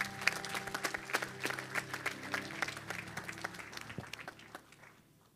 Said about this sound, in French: On acclame Jésus pour la question qu'il a posée.